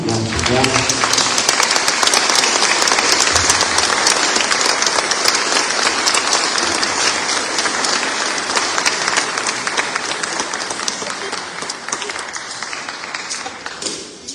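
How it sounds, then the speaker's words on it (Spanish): Wedding guests at a community mass wedding in Santa Fe de la Laguna, Michoacán, applaud the newly married couples with loud, dense, sustained clapping from a large crowd that slowly tapers over several seconds. "ya son esposos cristianos, ahora sí, los felicitamos, les damos un aplauso."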